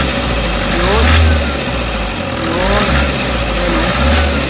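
A Toyota Hiace Commuter engine, just after a valve train repair, runs with a steady mid-pitched hum and swells twice in a couple of rev bursts. Someone speaks briefly over it.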